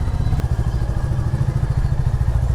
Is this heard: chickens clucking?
no